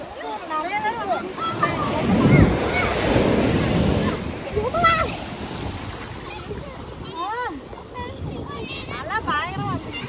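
Sea waves wash onto a sunny beach in a continuous rushing surf, with wind buffeting the microphone, while people talk over the sound.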